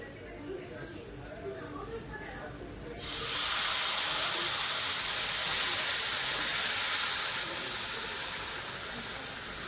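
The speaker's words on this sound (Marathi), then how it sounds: "दूध टाकूया." Boiled milk is poured into a hot pan for sevai kheer, setting off a loud, steady sizzling hiss that starts abruptly partway through and holds, after a quieter stretch with faint background voices.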